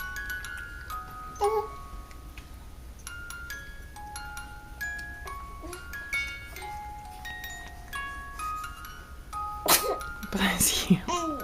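A sneeze bursts out near the end after a stretch of quiet household sounds with scattered tones, and people talk softly around it.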